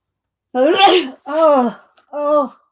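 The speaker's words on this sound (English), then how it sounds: "Oh, I feel a sneeze. I don't want to sneeze." A drawn-out sneeze builds with strained, voiced breaths, followed by a pained moan and a short groan, loud and close with no other sounds.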